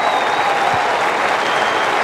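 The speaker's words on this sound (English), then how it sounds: "And the crowd here enjoying it" A cricket crowd at a match applauds a boundary four, with a dense, steady wash of clapping and cheering from many spectators, broad and sustained throughout.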